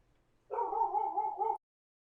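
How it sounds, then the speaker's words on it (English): A single close, clear dog bark or yelp, drawn out for about a second and heard alone against a quiet background. "she's barking just a little bit less"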